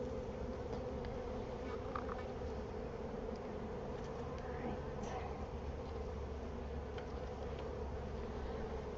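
Honey bees buzz steadily inside a live hive, a dense, constant drone that stays close and even throughout with no talking.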